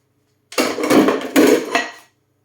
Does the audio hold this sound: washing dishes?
yes